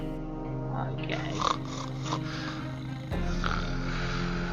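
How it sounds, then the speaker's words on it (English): Snoring from a character in the survival video game 60 Seconds, a low repeated snore playing among steady game sounds and background music, with no talk over it. "Why am I getting snoring sounds?"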